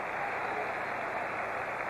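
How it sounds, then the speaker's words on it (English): A 1970s NFL stadium crowd, Dallas at Pittsburgh, roars in steady, distant applause as Franco Harris comes out, a broad, even wash of clapping and cheering with no voices on top. "to the acclaim of the crowd."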